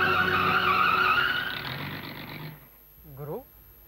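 A truck skids to a stop with a loud, scraping rush that fades out over a couple of seconds, followed by a short burst of voice.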